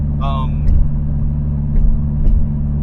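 A 2022 Subaru WRX fitted with a Perrin low-profile intake, its engine droning steadily and close, with two brief swells as it revs. A short whistle-like tone sounds near the start.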